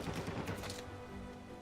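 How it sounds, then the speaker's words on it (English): Para submachine gun fire in Uncharted 4, a brief rapid burst of crackling shots that stops abruptly and leaves a faint ringing tail. "para is such a great weapon"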